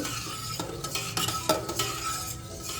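A spoon stirs masala with freshly extracted juice in a hot pan while preparing a chana dal dish, giving quick scraping strokes over a soft continuous sizzle, close and fairly loud.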